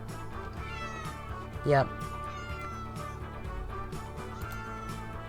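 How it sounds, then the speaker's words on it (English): A pet cat lets out a single short, loud meow close by over a steady bed of train-simulation game music and sounds, with someone speaking briefly. "Oh, my cat's shouting at me."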